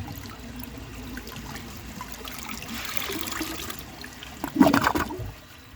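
A clogged 1948 Kohler Brooklands toilet is flushed, giving a faint, steady trickle and gurgle of water that swells into a brief louder rush near the end before going quiet.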